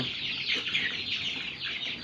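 Backyard domestic chickens cluck and chatter in a short burst of overlapping calls, moderately near, with no one speaking.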